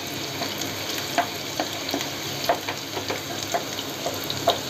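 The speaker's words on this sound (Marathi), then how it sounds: "मी कांदा आणि लसूण ठेचलेला तो यामध्ये घालते. जरासा परतून घेणार आहे" Crushed garlic and onion fry in hot oil for stuffed bitter gourd, giving a steady close sizzle with small pops and stirring clicks scattered through it, and no one speaks.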